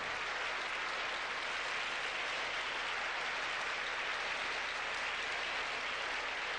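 A large audience at the 1988 Miss Universe pageant applauds steadily, a dense, even wash of clapping that holds at a moderate level throughout without a break.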